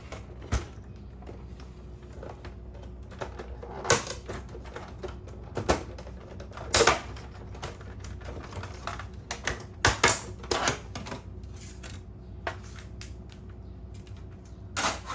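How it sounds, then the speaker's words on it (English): HP LaserJet Pro M402dn laser printer running, with irregular clicks, taps and creaks over a low steady hum, moderately close, no talking. "observe the printer while it's running"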